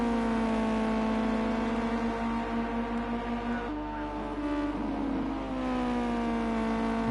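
Ginetta GT5 race car in Project CARS 2 on the Oschersleben circuit, its engine a steady loud harmonic drone with a small pitch dip midway, then pulling up again, sounding continuously with no talk.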